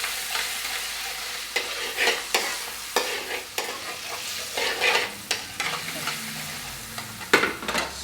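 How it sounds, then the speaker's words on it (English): A restaurant-style curry base with tomato puree sizzles loudly in the pan while a spoon stirs and scrapes it in repeated strokes, the hiss rising with each stir, close up and without any talking. "That's sizzling really nicely now."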